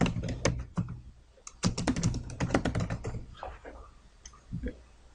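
Close, crisp keystrokes on a computer keyboard come in irregular bursts of rapid typing, with brief pauses between runs and no talking.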